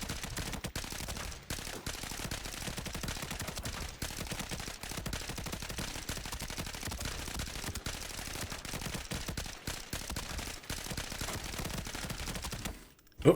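Gun firing a full magazine in Arena Breakout Infinite, a dense unbroken burst of rapid automatic shots held for several seconds at steady loudness, ending abruptly.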